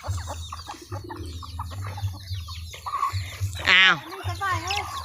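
Backyard village chickens cluck and squawk close by, with one loud sharp call standing out, under a steady low hum and scattered background voices.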